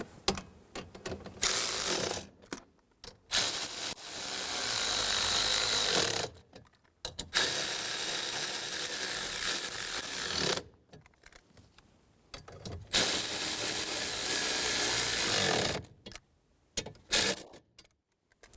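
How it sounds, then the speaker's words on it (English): Steering column coupler nuts and bolts on a 2011-2014 Hyundai Sonata being snugged down with a ratchet, bursts of rapid clicking separated by short silent gaps, close and fairly loud. "Go around and snug down all of the nut and bolts."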